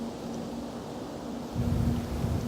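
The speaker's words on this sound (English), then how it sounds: "Pretty good gust coming about right now, which would be blowing across the line here from left to right" A strong gust of wind sweeps across an outdoor golf course during a women's tournament round, a low, steady rushing roar that swells louder partway through, with no talk over it.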